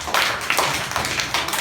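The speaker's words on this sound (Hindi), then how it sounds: "ताली बजाओ।" A group of schoolchildren claps hands in a lively, slightly uneven patter of close, sharp claps, continuous throughout with no talking.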